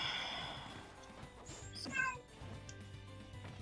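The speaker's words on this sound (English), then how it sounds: "Was that a meow? Yeah, it's a cat." A house cat meows close to the microphone, one drawn-out meow at the start followed by a shorter chirpy call near the middle, faint against a quiet room background.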